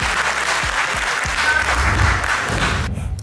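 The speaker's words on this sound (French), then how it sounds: "Applaudissez s'il vous plaît pour Caliman." An audience at a talent competition semi-final applauds a contestant with steady, dense clapping that fills the room for a few seconds and then cuts off abruptly.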